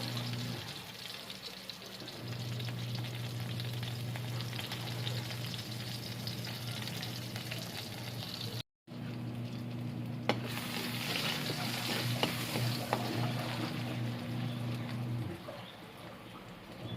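Garlic sautéing in a frying pan, a steady crackling sizzle under a low hum, with a brief cut midway before the frying resumes and then softens toward the end.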